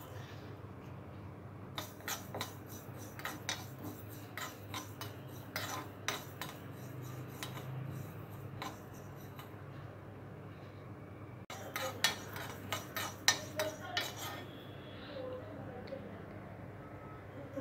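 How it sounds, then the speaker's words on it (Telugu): Fenugreek, mustard and cumin seeds dry roast in a pan on a stove while cauliflower avakaya pickle is being made. Soft scraping is heard along with repeated light ticks and clinks over a steady low hum, with a voice speaking faintly underneath. "స్టవ్ మీద ప్యాన్ పెట్టుకొని ఇందులో కొద్దిగా మెంతులు, ఆవాలు, జీలకర్ర వేసి డ్రై రోస్ట్ చేసుకోవాలి"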